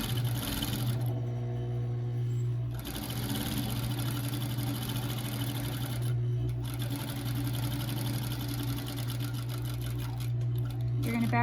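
A sewing machine stitching a fabric face mask, running in a loud, steady, rapid hum with brief pauses between seams, while a person talks over it.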